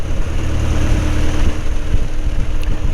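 A light aircraft piston engine runs up to 1100 RPM, a loud, steady, close droning hum with constant low rumble and no pauses.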